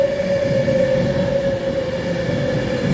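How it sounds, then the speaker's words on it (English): An Avanti West Coast train standing at Coventry station gives off a loud, steady, close hum with a sustained whining tone and no break. "Avanti West Coast service to London Euston"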